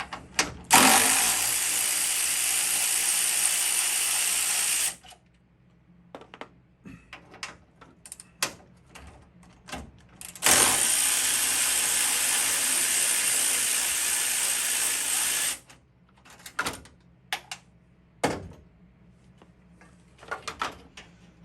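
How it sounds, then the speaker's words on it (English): A ratchet backs out the two screws on the hood latch of an older Ford Bronco or F-series truck. Two long stretches of steady clicking are separated by quiet gaps filled with scattered small clacks and taps, close by and with no voices. "Let's get these two screws out."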